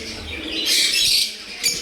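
Pet lovebirds chirping, with a brief bright burst of high twittering calls and a short second chirp near the end, fairly close and alone with no talk.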